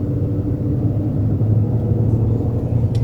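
A Porsche SUV engine rumbles steadily at low pitch from inside the cabin, a constant droning hum with no clear revving, loud and close throughout.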